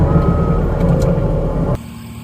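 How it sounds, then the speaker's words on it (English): A skid steer backs up carrying fuel tanks on its forks during cleanup after a tornado. Its reversing alarm beeps loudly and repeatedly over a heavy engine rumble, then the sound cuts off abruptly near the end. "back up the skid steer"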